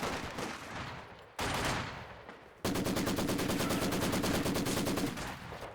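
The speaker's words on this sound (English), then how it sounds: "Vickers opens up." A Vickers machine gun fires in a Company of Heroes 2 battle as loud, sustained automatic bursts, the final long stretch a rapid, evenly spaced rattle of shots, with no voices.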